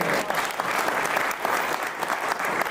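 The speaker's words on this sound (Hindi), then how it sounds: "जो 2-4 लोग ताली बजा रहे वे भी ना बजाए" A small audience at a motivational training session claps for a few seconds, a thin, uneven patter of scattered hands.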